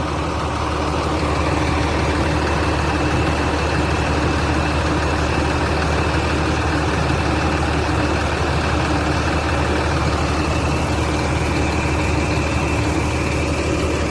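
A bus diesel engine idles steadily throughout, a continuous low rumble with a constant mechanical drone and no pauses.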